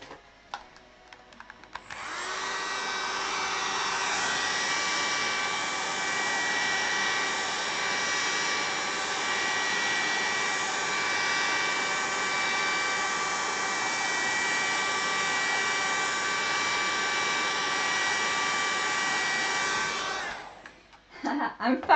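A hair dryer switches on and blows a steady, loud whirring hiss for about eighteen seconds while drying ink on a drawing, then shuts off.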